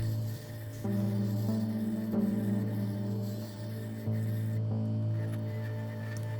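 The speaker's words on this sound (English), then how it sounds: "Just overall shaping the handle, nothing too exciting at this point." A rasp or file shaping an African blackwood bullwhip handle, with repeated rubbing, rasping strokes that run steadily and close by over a low background hum, with no voices.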